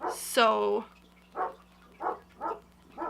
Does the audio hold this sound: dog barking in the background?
yes